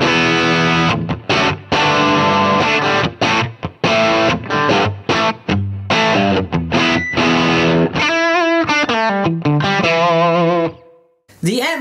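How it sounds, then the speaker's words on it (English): Distorted electric guitar through a Line 6 Helix Marshall Plexi amp model, Brit Plexi Bright with two 4x12 cabinets, plays loud crunchy chords and riffs, then sustained bending lead notes, with no talking over it. "So this is my take on a Marshall Plexi sound that I really enjoy."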